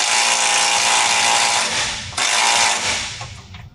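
Impact wrench hammering hard against a small chrome socket on a 35-year-old junkyard Dodge, a loud dense buzzing rattle that runs near-continuously, briefly dips, then surges again before easing off.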